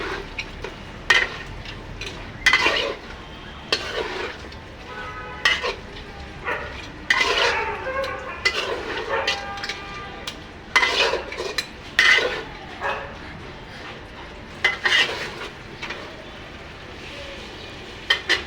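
Goat head curry with brain in a pan is stirred by hand, with irregular scraping and clanking strokes of a spoon against metal, some louder than others, over a faint background hiss.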